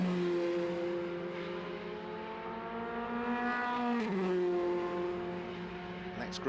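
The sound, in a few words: Formula 3 race cars passing at Brands Hatch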